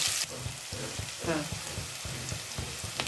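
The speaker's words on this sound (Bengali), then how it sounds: "পেঁয়াজটা পুরোপুরি ভাজবো না, কিন্তু একটু লালচে হওয়া পর্যন্ত ভাজবো" Chopped raw onion frying in a pan for a Bengali tarka, making a steady close sizzle with the scrape of stirring and no talk.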